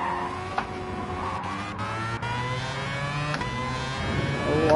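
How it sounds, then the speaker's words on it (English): Race car engines in Gran Turismo 7 scream and drone at high revs, with a few tire squeals and shifts, loud and continuous, with no talking. "Oh, I can hear those engine notes behind me."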